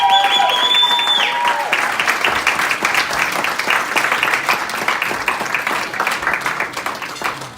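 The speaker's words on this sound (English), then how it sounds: "One more time, give her a big round of applause." Wedding guests at a reception clap loudly and steadily for a speech, a full crowd of hands that holds throughout and tapers only slightly at the end.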